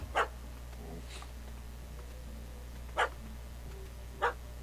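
A dog barks in The Witcher 3: Wild Hunt, Hearts of Stone, four short distinct barks spaced irregularly over a quiet game ambience.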